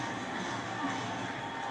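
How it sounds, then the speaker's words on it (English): Sellout baseball stadium crowd of mostly Yankee fans: a steady wash of many distant voices, a constant murmuring roar with no distinct cheers standing out. "This sellout crowd, mostly Yankee fans, fully engaged here in the bottom"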